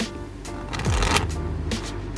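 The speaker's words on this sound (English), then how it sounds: "you shuffle the deck" Quick riffling card shuffles, a crisp fluttering burst repeated a few times at close range.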